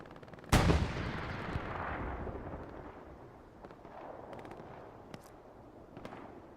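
A frag grenade goes off in Hell Let Loose on the Kharkov map with a sudden loud blast, then a long rumbling decay while scattered distant gunshots crack in the background.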